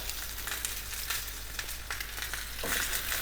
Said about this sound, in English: I'm gonna get that fat up against the side of the pan so it cooks that fat nice and fast